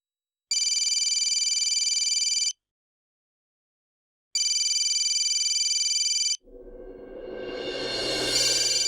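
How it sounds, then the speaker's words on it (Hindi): An electronic phone ring sounds in two long bursts with a pause between, then gives way to rising background noise. "राम सर का फोन है।"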